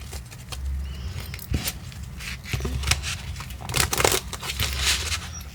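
Tarot cards are shuffled by hand up close: quick papery riffles and flicks arrive in irregular bursts, with soft rustling between them and no talking.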